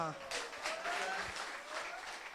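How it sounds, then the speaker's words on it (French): Steady applause from a crowd at a municipal council inauguration, a continuous patter of clapping filling the room at moderate loudness. "Sous vos applaudissements nourris, bien sûr."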